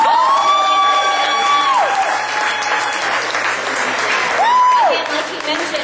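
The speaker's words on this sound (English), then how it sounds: "let's give a big round of applause" A comedy benefit crowd breaks into sustained loud applause and cheering, close and continuous, while a high sliding tone sweeps in and out over the clapping.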